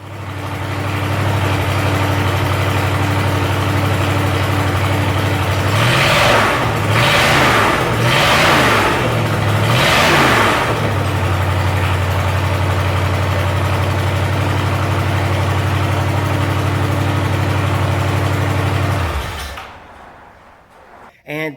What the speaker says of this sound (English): I have started this motor.